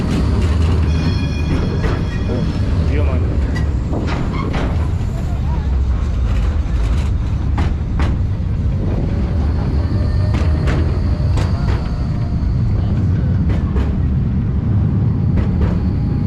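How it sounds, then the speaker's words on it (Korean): A rumbling tram rolls past with rattling wheels and faint squeals, loud and continuous, above the Douro River in Porto, Portugal, while a person speaks briefly over the noise. "트램이 여기 지나가네요"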